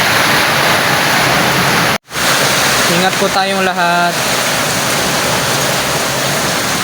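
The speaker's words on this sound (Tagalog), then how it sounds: "Lakasan ng ulan sa labas." Steady, dense roar of heavy rain fills the clip, with a person speaking briefly over it midway.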